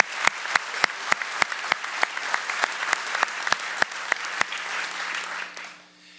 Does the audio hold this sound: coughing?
no